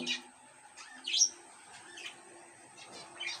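Budgerigar chicks in a cage chirping in short, high, scattered bursts with quiet gaps between them, close and fairly faint.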